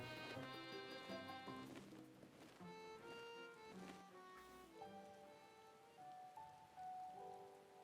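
Rain falling in Final Fantasy XIV, a soft steady patter blended under gentle melodic background music, continuous and calm throughout with no talking.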